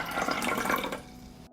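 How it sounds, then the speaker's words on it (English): About 250 milliliters of water is poured onto sage, a short splashing pour, close and fairly quiet, that tapers off after about a second. "I pour 250 milliliters of water."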